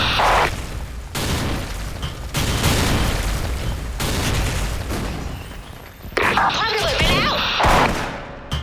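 Several heavy explosions in a video game, loud booming bursts with crackling debris separated by brief gaps, ending in a busier stretch of pops and crashes, with excited talk over the top.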